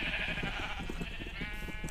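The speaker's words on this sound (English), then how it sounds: "Apparently there's going to be a sheep farm here, which is good." Sheep on a farm in the video game BlockCITY bleat steadily, several overlapping wavering cries above a constant bright game tone, with no talk.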